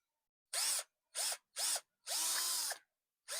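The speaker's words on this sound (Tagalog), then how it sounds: "Gamit yung ating barena" Four short bursts of a power drill whirring, the last one held longer, with brief silent gaps between them and a fifth starting at the end.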